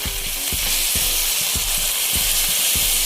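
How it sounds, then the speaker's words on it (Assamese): Hot water is poured into eel fish curry with fried potatoes in a pan and sizzles loudly. A dense, close hiss runs throughout, broken by rhythmic bubbling pops. "এতিয়া আমি ইয়াতে অলপ গৰম পানী ঢালি দিম।"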